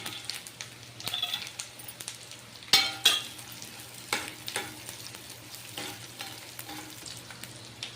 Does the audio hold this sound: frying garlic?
yes